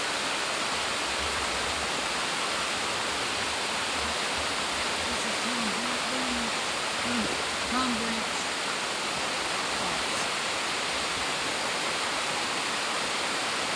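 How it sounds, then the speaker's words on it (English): Steady broadband rush of a 60-foot waterfall along a creek near Cherokee, North Carolina, continuous and moderately distant, with a faint voice briefly murmuring in the middle. "Just a pretty waterfall just along the creek."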